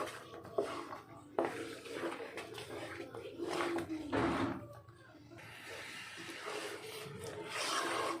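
Thick jackfruit kesari is stirred in a pan, giving close, irregular scraping and rubbing strokes of a spoon against the pan's surface, fairly soft and continuous with occasional louder knocks.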